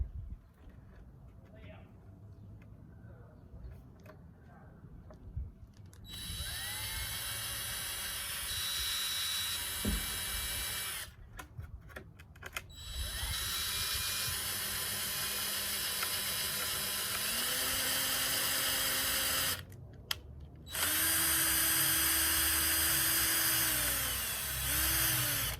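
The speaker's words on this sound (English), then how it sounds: "just gently put in some pilot holes here so that the wood hopefully doesn't split when I put in the regular wood screws" A power drill bores pilot holes into thin cedar fencing boards for a raised garden bed, heard as several loud high-pitched whining bursts that ramp up and wind down, separated by quieter pauses where a person talks.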